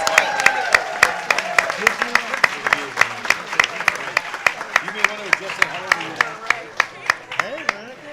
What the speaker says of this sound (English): let's hear congratulations and a round of applause for IdeaStream.